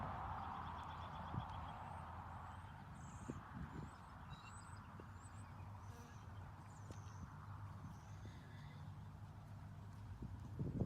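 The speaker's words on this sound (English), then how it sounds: "So now we're on the horse's back, taking it for a walk." A horse being ridden at a walk clip-clops in a steady, moderately close rhythm over a faint outdoor background, with a few faint birdlike chirps above.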